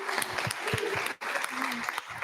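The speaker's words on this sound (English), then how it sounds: "Could we go ahead and have a round of applause for our brother?" Congregation applause at an anniversary church gathering, steady clapping from a crowd of moderate size lasting about two seconds with a short break in the middle and voices faintly underneath.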